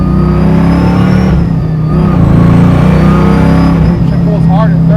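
A 700-horsepower supercharged Chevrolet Camaro Z28 restomod pulls hard in third gear under load, a loud steady mid-pitched roar with rising harmonics, while people talk over it close by.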